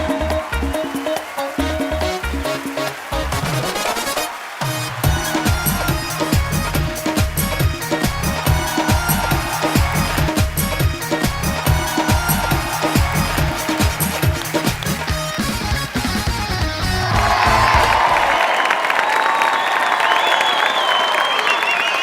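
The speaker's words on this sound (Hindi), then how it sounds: "जोरदार तालियों से स्वागत करिए योग गुरु बाबा रामदेव" Studio audience on a comedy talk show welcoming yoga guru Baba Ramdev with loud, sustained clapping and cheering over upbeat music, swelling toward the end.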